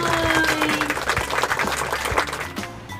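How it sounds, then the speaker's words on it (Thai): Young children in a classroom clap for themselves during a lesson on safety, an uneven burst of small hands clapping that stays fairly loud for about three seconds, with a brief musical tone underneath. "เด็กๆเก่งมากเลยค่ะ ปรบมือให้ตนเองหน่อย"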